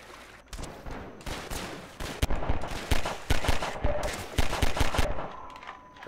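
Half-Life 2 gunfire crackles in irregular bursts, with single shots and quick volleys close and loud, overlapping with other game noise and brief gaps between clusters.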